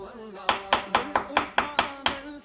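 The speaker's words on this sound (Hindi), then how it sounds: "मैं इसको खजूर को भी छोटा छोटा काट लेता हूँ।" Knife chopping dates into small pieces on a board for a creamy fruit chaat, about nine crisp, evenly spaced strikes, close and clear with no talk over them.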